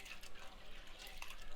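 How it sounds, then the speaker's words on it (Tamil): Water pours and splashes onto black urad dal in a vessel for washing, a faint, close trickle with small gurgles and drips, quiet and uneven. "இப்போ நான் இந்த தண்ணியை ஊற்றி பிசைய போகிறேன்."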